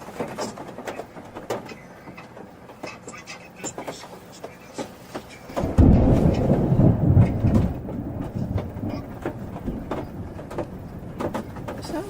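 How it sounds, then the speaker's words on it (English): Thunder during a thunderstorm: a single deep, rolling rumble swells loudly midway and lasts about two seconds, then fades back into a faint, steady background. "thunder cracks overhead"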